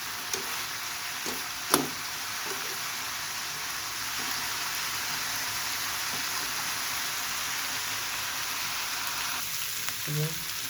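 Bottle gourd peel, potato and carrot fry in a pan with a steady, soft sizzle throughout, broken only by a few faint clicks and knocks.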